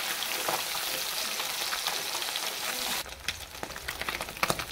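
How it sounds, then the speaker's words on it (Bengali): Small fish fry steadily in a hot pan of oil, a dense, continuous sizzle that drops slightly in level partway through and turns into crackling pops near the end. "এই প্রসেসের পরপর সব মাছ আমরা ভাজা নেব।"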